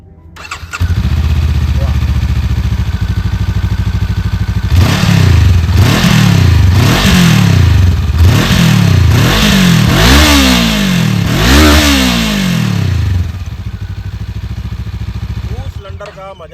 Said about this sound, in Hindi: तो एक बार आप मेरे को बाइक की साउंड सुनाओगे?